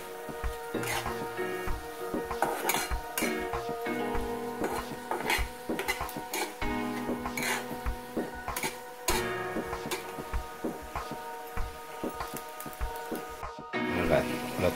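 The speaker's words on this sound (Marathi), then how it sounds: "व्यवस्थित परतून घ्यायचं।" Onion and chilli are sautéed in a pan for a young jackfruit curry. A spatula clinks and scrapes steadily against the metal pan over a low sizzle, heard up close.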